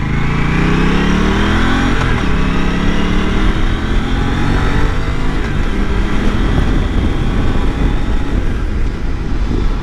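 An Aprilia RS 457 motorcycle brakes hard from about 60 with ABS engaging. The engine note winds down over the first couple of seconds under heavy, constant wind rush, loud and close throughout.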